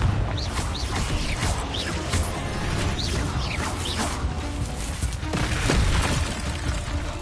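Fiery spell blasts and crashing impacts in Hogwarts Legacy while battling a giant spider, a string of whooshing bursts and booms over a busy layered combat backdrop, fairly distant and mixed.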